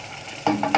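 Green beans and meat being stirred in a pan with tomato sauce, a quiet background giving way to a couple of louder scraping, sizzling stirs near the end.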